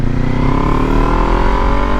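Kawasaki Ninja 400 motorcycle running steadily close by, a continuous mid-pitched engine drone with a slight rising pitch as it pulls, loud and alone without voices.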